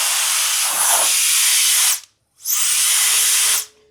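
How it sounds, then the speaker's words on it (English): A handheld electric air duster, a 130,000 RPM model, blasts air in two steady bursts of loud, broad hiss, each about one and a half to two seconds long, separated by a short silent pause. "If you hold it, it sprays."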